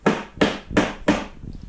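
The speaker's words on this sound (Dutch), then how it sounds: "Dat is natuurlijk met de hamer kloppen." Four sharp, evenly spaced knocks of a hammer striking a wooden sofa frame, close and loud, followed by a faint rattle.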